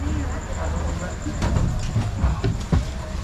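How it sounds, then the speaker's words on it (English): Passenger train in Thailand, on the route from Phuket to Bangkok, rumbling steadily close by with a few sharp clanks and knocks while background voices murmur. "So here's the train."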